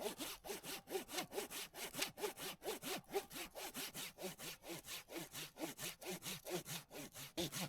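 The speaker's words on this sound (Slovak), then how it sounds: "Odrežem to tu pri krčku." A hand saw cuts through an old tree trunk low near the root collar, its rapid back-and-forth strokes rasping evenly and close, with no voices.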